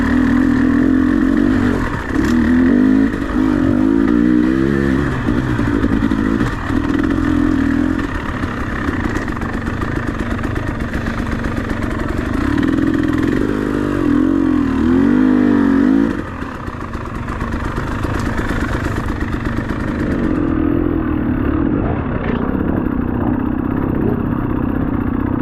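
A motorcycle engine runs loudly and close while riding in Wales, its pitch rising and falling as it revs repeatedly, with rattling and clatter underneath.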